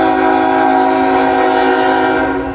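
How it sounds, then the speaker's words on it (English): A southbound Norfolk Southern grain train sounds its horn in one loud, steady, sustained blast that lasts the whole moment, with a low rumble of the train beneath it. "Looks like a grain train."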